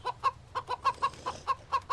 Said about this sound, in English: Dude, calm down, chicken. Holy crap. Sound like you're freaking going mental.